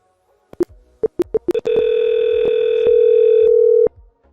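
A few short beeps of dialing, then a steady electronic ringing tone from a Zoiper 5 VoIP softphone calling an X-Lite extension holds for about two seconds before cutting off.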